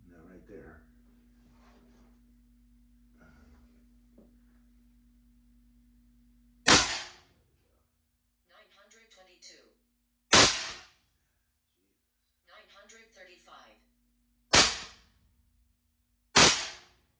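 A Western Rattler .357 revolver fires four sharp, close, loud shots at uneven intervals, with someone talking quietly between them.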